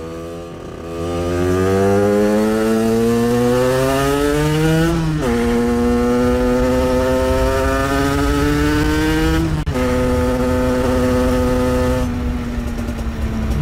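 A 50cc moped fitted with a Voca Rookie exhaust revs hard while climbing uphill. The close, buzzy two-stroke whine rises steadily in pitch, drops briefly at each gear shift, then climbs again, loud and continuous.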